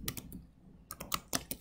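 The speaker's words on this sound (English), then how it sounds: "When you're done typing, you are going to tap the check button again." Quick bursts of keystrokes tap on a keyboard, close and crisp, in two short clusters separated by a brief pause.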